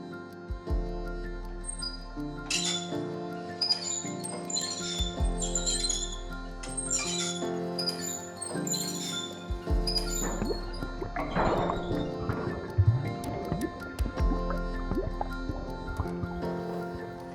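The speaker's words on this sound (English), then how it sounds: "When I visited Nablus with Jeremy DeHutt, we drew water from the well" Water is drawn from a well with a bucket, giving splashing, dripping and sloshing sounds with hollow resonant knocks over a steady low hum.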